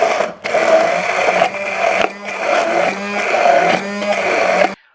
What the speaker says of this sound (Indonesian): Bisa pakai blender biasa yang khusus untuk bumbu-bumbu itu